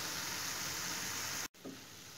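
Meat filling for cabbage rolls sizzles steadily in a hot pan, a constant soft hiss that cuts out abruptly for an instant before resuming more faintly.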